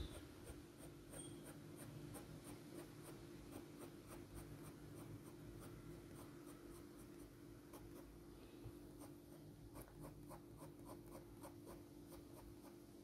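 A graphite pencil shades short dark fur texture on paper, giving faint, rapid rhythmic scratching strokes, quiet and close, over a low steady background hum.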